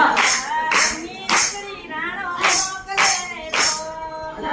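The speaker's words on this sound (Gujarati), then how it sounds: "તાળી પાડો હરિના નામની" Hands clap in rhythmic bursts along to a Gujarati devotional satsang song about Mirabai, sung by a women's group. The claps come in sharp, evenly spaced clusters under the singing voices.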